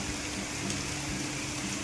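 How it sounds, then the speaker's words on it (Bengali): Heavy rain falling outdoors, a dense, even wash of patter filling the whole short stretch with no breaks and no voices. "ভীষণ বৃষ্টি পড়ছে।"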